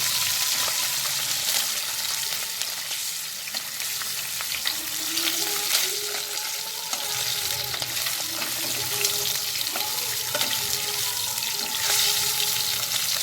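Pabda fish coated in salt and turmeric fry in hot oil, giving a steady, bright sizzle with crackling spits throughout and occasional faint clinks of a utensil turning the pieces.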